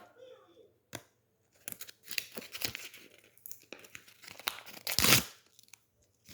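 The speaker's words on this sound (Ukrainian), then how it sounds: "Зараз я розірву пакет." A packet from an anime sticker collection is torn open by hand, giving a few sharp ripping and crinkling bursts, the loudest near the end, with quiet handling noises in between.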